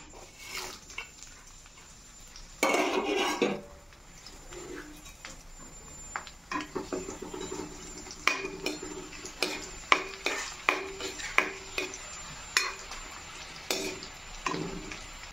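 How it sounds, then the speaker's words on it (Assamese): Spices are stirred in a cooking pan in a home kitchen, giving a series of scraping strokes that grow more regular toward the end, with faint background bird cooing. "অকণমান লৰাই দিছোঁ।"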